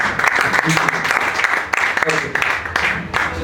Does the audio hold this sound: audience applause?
yes